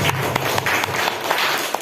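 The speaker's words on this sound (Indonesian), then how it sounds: "Kita berikan tepuk tangan untuk ketiga calon guru penggerak kita." Applause for three teacher candidates at a school event: dense, steady clapping from a group, moderately loud and fairly close, running the whole short stretch with no talk over it.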